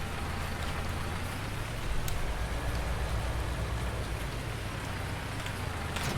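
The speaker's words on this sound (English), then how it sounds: "I think that rain is about to stop." Steady rain falls in Farming Simulator 19, a dense even hiss with low rumbling underneath that holds for several seconds, briefly swelling louder midway, with no talking over it.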